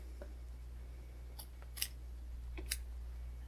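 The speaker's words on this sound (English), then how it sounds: "Open that up and then just cut that little triangle off." Scissors snip off the excess corner fabric of an embroidery being prepared for framing, a few sharp crisp cuts spaced apart over a low steady hum, with no talking.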